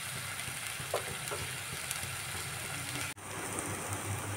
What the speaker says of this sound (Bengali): ভালো করে একদম শুকনো শুকনো করে তেল ছাড়া পর্যন্ত কষাতে হবে।